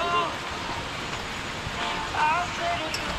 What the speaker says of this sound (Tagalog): yung maririnig nyo lang dito is yung agos ng tubig. Yun ay sa sapa.